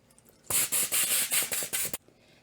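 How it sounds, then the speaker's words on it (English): Several quick bursts of cooking spray hiss from a can in close succession, loud and near, lasting about a second and a half. "we're also going to spray some cooking spray in here"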